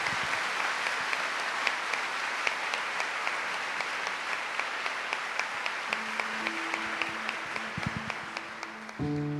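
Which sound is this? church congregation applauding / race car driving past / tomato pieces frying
church congregation applauding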